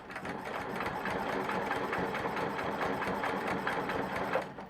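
A sewing machine stitches a pebble pattern in free-motion quilting, a steady rapid needle chatter holding at an even pace, close and alone.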